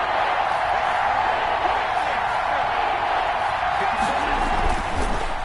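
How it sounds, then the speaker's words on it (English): Dense crowd roar filling a stadium in an American football video game, steady and loud throughout, with no clear peaks. "The crowd getting into it as we come up on a big 3rd down."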